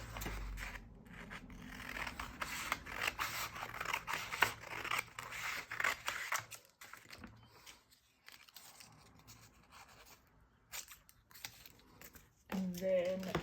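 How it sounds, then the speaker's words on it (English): A tiny sliver of tin can metal being cut with scissors for a folded pen nib: close, quiet snipping and scraping strokes in an irregular run, with a lull near the middle and a brief faint voice near the end. "I'm just gonna cut a tiny sliver off of this."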